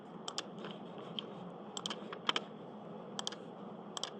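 Typing on a computer keyboard during CAD work, several quick clusters of crisp, close key clicks separated by pauses over a quiet room background.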